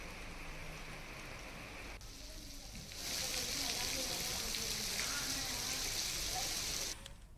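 Heavy monsoon rain pours down steadily in Uttarakhand, a dense continuous hiss that swells louder partway through and drops back near the end, with no voices.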